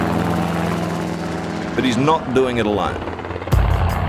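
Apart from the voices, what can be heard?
helicopter flying while mustering cattle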